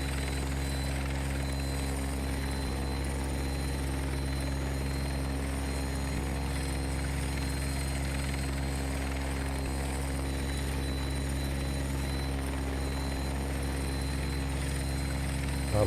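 Bell 412 helicopter flying in the X-Plane 11 flight simulator, a continuous heavy rotor and turbine drone, loud and even throughout with no talk.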